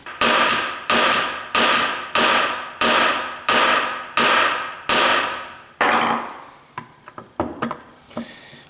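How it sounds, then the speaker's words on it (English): A small hammer taps metal on a Dodge Ram power steering pump in a steady series of eight ringing strikes, then a few lighter, irregular taps follow, close and fairly loud. "Just got this little hammer."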